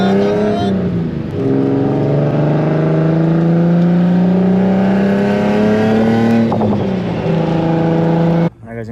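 Turbocharged Nissan 350Z accelerating hard in first gear, its loud engine note climbing steadily for several seconds, dipping briefly near the end before cutting off abruptly.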